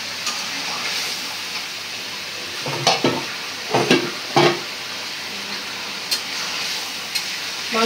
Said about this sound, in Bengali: আলুটা একটু কষাই নিই।